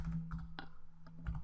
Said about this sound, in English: Simply click where you want the text to start and start typing away.